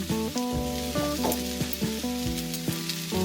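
Garlic sizzling in a frying pan for Sicilian caponata, a steady close hiss that runs the whole time beneath a tonal backing, with no talking.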